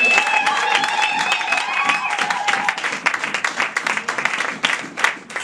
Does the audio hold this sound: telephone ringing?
no